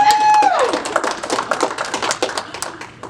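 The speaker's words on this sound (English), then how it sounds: "Round of applause." Applause breaks out at a military services flight gathering after coin awards: dense, crackling crowd clapping filling the whole moment, fairly close and steady, with a brief tone fading out at the start.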